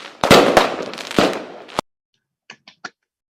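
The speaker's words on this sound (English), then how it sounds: "Now you see the fireworks coming out now from the event." Fireworks at an online signing ceremony crackle and bang in a loud, dense run of bursts lasting under two seconds. After a sudden cut to silence, three faint, sharp pops follow.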